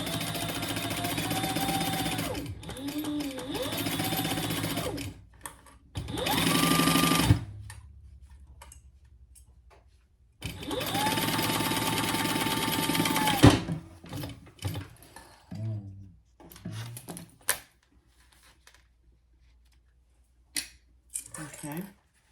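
Sewing machine stitching a seam on zipper tape for a zippy bag, running in several bursts of steady whirring with pauses, clicks and handling noises between, close up.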